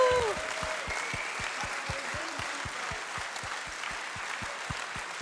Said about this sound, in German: den kräftigen Applaus für unsere Grünen in den ländlichen Regionen